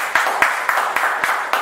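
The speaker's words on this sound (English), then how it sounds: "Claps for you." Audience clapping at a talk, sounding as a run of distinct, fairly loud hand-clap bursts at a steady rhythm, with no voices over it.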